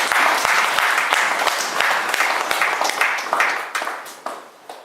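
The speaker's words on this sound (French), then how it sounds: "Applaudissez le Seigneur." A church congregation claps together in dense, lively applause that gradually thins and fades toward the end, with a few sharp individual claps standing out.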